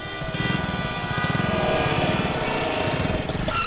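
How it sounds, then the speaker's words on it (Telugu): Vehicle engines idle in a street traffic jam, including an auto rickshaw and a bike. A close, throbbing, rapidly pulsing engine drone runs steadily throughout, with no clear speech. "ఏంటి బాబు ఇంత ట్రాఫిక్ జామ్ అయింది"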